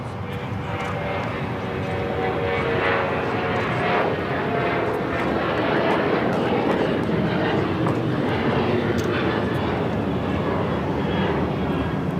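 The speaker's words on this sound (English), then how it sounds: "2343 taking off to Raleigh-Durham on the 737-800" Steady loud jet roar of an American Airlines Boeing 737-800 taking off at LAX, bound for Raleigh-Durham, rumbling continuously with faint scattered ticks and no clear talk.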